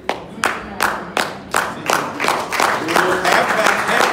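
A crowd's claps at a sermon start as separate sharp hits about every half second, then thicken into steady, fairly loud applause.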